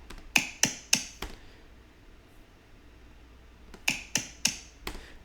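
Hand claps close to a microphone, four sharp, quick claps in a row, a pause of near silence, then four more in the same brisk rhythm, each crisp with a short decay, no voices.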